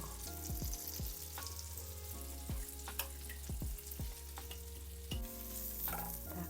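Bananas frying in butter in a pan, a steady close sizzle with repeated scraping and knocking as the pieces are turned, no voices.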